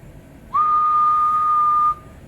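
A single steady whistled tone into a radio microphone, held for about a second and a half, clear and close, with no talking around it.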